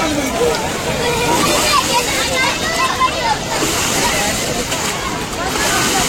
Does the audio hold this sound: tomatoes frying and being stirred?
no